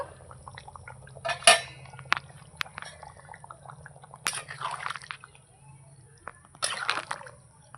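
Lid lifted off a pot of simmering mutton in a home kitchen, bright metallic clanks and clatters over a low bubbling, with a few sharp knocks spaced apart.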